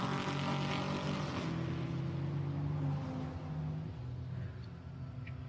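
A GT4 race car accelerating downhill at Imola during qualifying, its engine a loud, steady broadband roar with a gradually shifting pitch, heard from trackside with no talk.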